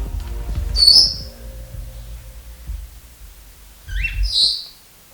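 Two short, high-pitched cockatiel chirps, one near the start and one near the end, close by over low rumbling background noise.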